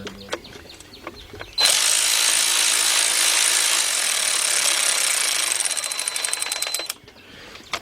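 A ratchet works the bolts on a Ford Focus or Transit Connect power steering reservoir with a loud, continuous buzzing whir for about five seconds that breaks into rapid ticking before it stops.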